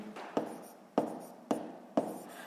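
A math solution being written by hand, four distinct taps as a pen strikes paper, each followed by a short scratching stroke, quiet and close with no talk.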